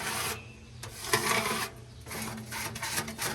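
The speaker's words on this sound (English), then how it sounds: "I'm going to use my scraper and just start scraping" A metal scraper rasps steadily across the inside of a Lonestar Grillz offset smoker, clearing debris in long gritty strokes with brief pauses, close and fairly quiet.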